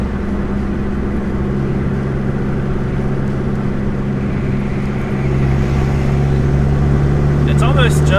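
Car exhaust running with the cutout opened, a hot engine idling under a car with solid motor mounts, giving a steady low drone with a strong tonal hum that grows a little louder partway through.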